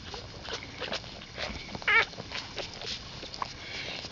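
One-week-old puppies make faint little squeaks and whimpers among rustling bedding, soft and close, with one brief higher squeal standing out.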